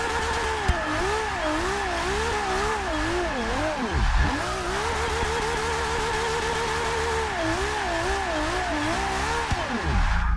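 A turbocharged 1,100 HP Ferrari F12 in Forza Motorsport 6 revs hard through repeated rising and falling pitch sweeps as it shifts and brakes, loud and continuous with faint tire noise.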